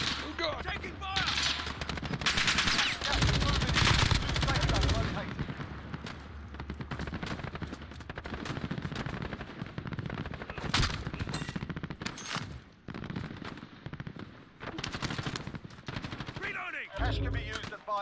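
Dense automatic gunfire in Call of Duty Warzone, with rapid machine-gun bursts and heavy volleys through most of the stretch, broken by short pauses and loud close shots.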